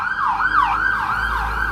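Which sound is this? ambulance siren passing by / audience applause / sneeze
ambulance siren passing by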